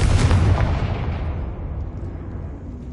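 A Confringo blasting spell explodes in Hogwarts Legacy with one loud, deep boom that rolls off into a fading rumble, heard alone without speech.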